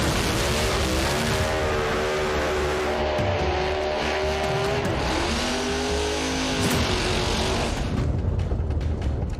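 Drag race cars in the Grade 8 series finals, loud engines roaring at full throttle with revving and rising pitch as they launch and tear down the strip, tires squealing, continuous and close.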